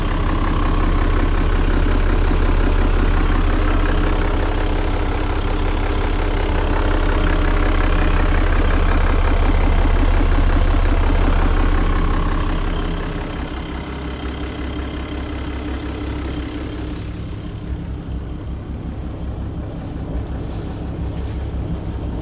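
An Aquador 32C boat engine idles with a steady low rumble that drops in level partway through, then continues quieter with faint water and wind noise.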